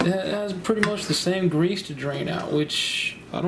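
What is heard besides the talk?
No everyday noises stand out.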